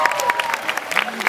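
An audience at a live comedy show claps in a brief burst while a voice talks over it.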